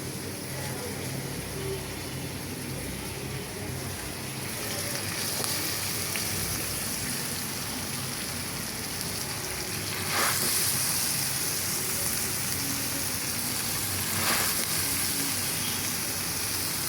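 Heavy, steady downpour of rain drumming on surfaces outdoors, a dense continuous hiss that swells slightly in the middle, with faint voices underneath.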